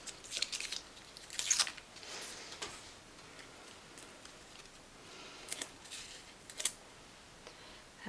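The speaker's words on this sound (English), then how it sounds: "I'm going to take my scissors and just trim that little foam pad down." Soft, crisp snips of scissors cutting through foam, a few scattered cuts spaced irregularly against a quiet background.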